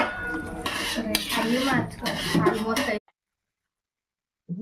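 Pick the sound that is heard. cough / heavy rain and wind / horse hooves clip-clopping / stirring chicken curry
stirring chicken curry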